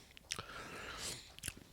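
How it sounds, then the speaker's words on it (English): A played AI-made music track carries chewing sounds: a few moist, crunchy bites and smacks, quiet and close, separated by a soft hissy stretch, with no talking. "I'm hearing a bunch of chewing in each ear"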